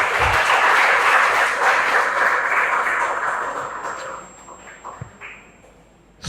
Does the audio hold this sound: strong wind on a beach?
no